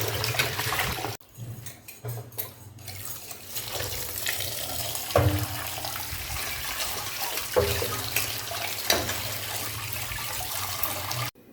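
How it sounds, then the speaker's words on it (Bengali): Tap water runs steadily over freshly cut fish being washed in a kitchen sink, a continuous close splashing with brief changes as the fish is turned under the stream, no talking. "মাছটা কাটা হয়ে গেছে, এখন আমি ভালোভাবে ধুয়ে নেব।"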